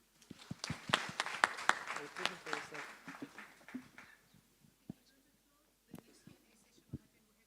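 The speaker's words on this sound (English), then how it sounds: "and a round of applause to them." Audience applause for panelists at a youth trade and export summit, a burst of clapping that fades out after a few seconds, leaving scattered isolated claps and faint murmuring.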